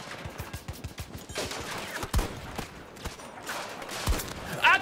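Rapid bursts of gunfire from Battlefield 2042 crack in quick succession, a rattling volley of shots followed by several louder, sharper single reports, fairly close and punchy with faint game noise between.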